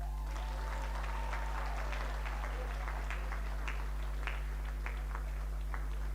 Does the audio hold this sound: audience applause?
yes